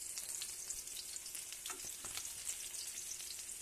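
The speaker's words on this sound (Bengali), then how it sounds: "আগে পটল ভাজাটা করে নিই" Sliced pointed gourd (potol) frying in hot oil in a home kitchen, a continuous close hiss and crackle with a few brief stirring clinks, no talking.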